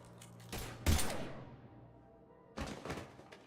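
Gunfire in the video game Mass Effect 3 comes as a couple of sharp, heavy blasts with short echoing tails, spaced apart, then a burst of rattling shots.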